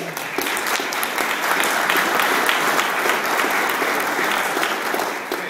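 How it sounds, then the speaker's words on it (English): Attendees at a public meeting on Broadway Corridor drainage projects give the speakers a round of applause, a full, steady clatter of many hands that swells slightly and then fades over several seconds. "Let's give them a round of applause."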